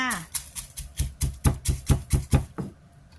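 Chili pounded with a pestle in a mortar, a steady run of about a dozen heavy rhythmic thuds, close and loud, slowing and fading at the end.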